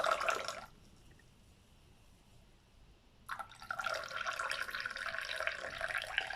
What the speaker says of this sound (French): on va enlever l'eau pour en fait nettoyer l'intérieur de la théière